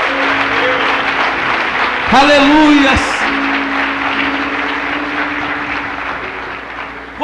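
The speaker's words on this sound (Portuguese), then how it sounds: "Quem crê nisso pode aplaudir Jesus mais uma vez" A church congregation applauds Jesus during a sermon, with dense steady clapping throughout and a voice shouting in praise partway through, the clapping continuing at even loudness afterward.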